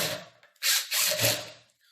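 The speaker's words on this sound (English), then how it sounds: "Insert your bolt and tighten." A bolt is tightened into the handle of a KICK Freedom 48-inch foosball table, giving two or three short, close rasping turns of the tool against metal and plastic, loud and alone.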